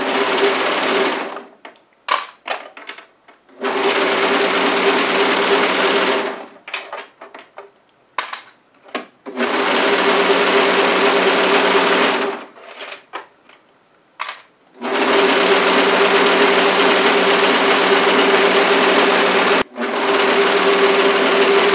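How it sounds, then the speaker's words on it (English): A serger (overlock machine) sews down both side seams of a dress in several long, steady runs with brief pauses between passes, a loud continuous whirring hum close by with no talking. "We are going to go ahead and serge down both side seams."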